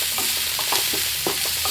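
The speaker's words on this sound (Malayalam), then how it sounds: "തക്കാളി അരിഞ്ഞത് ചെറിയ തക്കാളിയാണ്. ഇത് നന്നായി ഇളക്കിയതിന് ശേഷം" Chopped small tomatoes are stirred in a hot pan, giving quick, rhythmic spoon scrapes and squelches over a constant sizzle, close up and with no voices.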